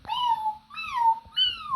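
A voice imitates a cat, giving three drawn-out meows in quick succession, close and clear against a quiet room.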